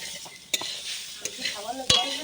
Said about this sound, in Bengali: চিনি দিয়ে দিলাম নারকেলে দিয়ে নেড়ে নিতে হবে